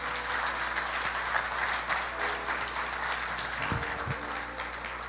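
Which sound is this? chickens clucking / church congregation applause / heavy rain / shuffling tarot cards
church congregation applause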